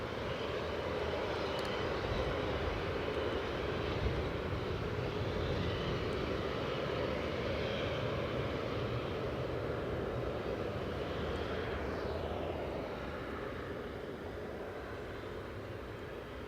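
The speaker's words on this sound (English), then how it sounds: "So we've got the Ryanair from Funchal just rolling out here." Ryanair airliner from Funchal rolling out after landing at Manchester Airport, a sustained broadband jet rumble at moderate distance, steady for most of its length before easing slightly near the end.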